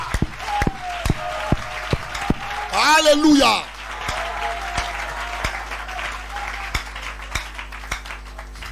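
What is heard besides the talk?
church congregation applause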